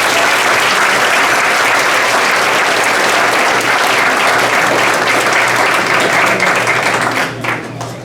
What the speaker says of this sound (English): let's give this whole group a round of applause